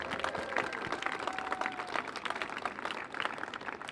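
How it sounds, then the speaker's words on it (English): An audience at the Avenue Theater in Portola gives a round of applause at a neon sign revival event, a fairly faint, dense patter of many hands clapping heard from a distance, with no voices over it. "let's give Nita a huge round of applause"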